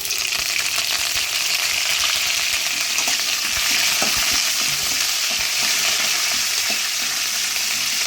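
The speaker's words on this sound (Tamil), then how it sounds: "அடுத்தது பச்சை மிளகா கருவேப்பிலையை அதில் போடுறேன்" Green chillies and curry leaves frying in hot oil in a pan for idli upma, a dense steady sizzle close by with scattered small pops and scrapes throughout, no voices.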